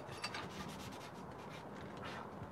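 Soft, repeated scratchy rubbing strokes of sandpaper worked back and forth over freshly painted black paint on a porch swing, close and fairly quiet, without talking.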